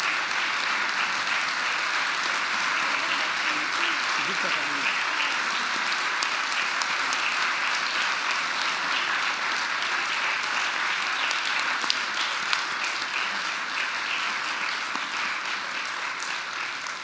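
Long, loud audience applause at a Quebec Liberal Party general council award presentation, a dense continuous roar of many hands lasting well over fifteen seconds, with faint voices underneath and occasional sharper claps.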